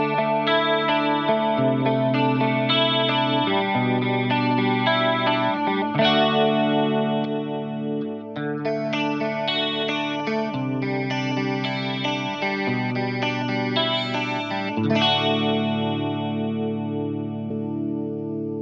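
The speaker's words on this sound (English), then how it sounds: "Let's move on to some more modulated tones that you would normally hear played in the era that this guitar is trying to capture the essence of." An SBS VS200 offset electric guitar played through a chorus effect, with shimmering, modulated chords and picked notes ringing out loud and sustained, changing chords every few seconds, with no talking.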